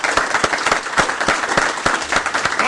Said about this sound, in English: Can I get a round of applause for the guys who did MetaCPAN?